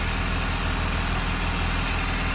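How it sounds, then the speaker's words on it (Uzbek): A 2024 Kia Bongo truck engine idles steadily, a close, constant low mechanical drone with a fine rapid pulse, heard from outside with the engine compartment closed. "motorini ishlashi tashqi tarafdan qaraganda juda ham yaxshi holatda ishlab turibdi"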